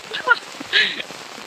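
Heavy rain falls during a downpour, drops pattering on surfaces in a short burst, with a couple of louder splashy gusts and faint sounds of a person nearby.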